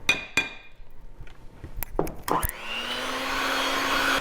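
Coffee cake batter with all-purpose flour is mixed: a few clinks and taps at first, then an electric mixer motor whirs up and holds a steady, fairly loud drone to the end.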